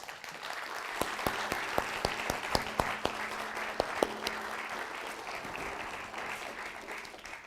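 An audience claps after a talk on politics in art and poetry, a moderate patter of many hands with a few sharp louder claps standing out, fairly steady, then thinning toward the end.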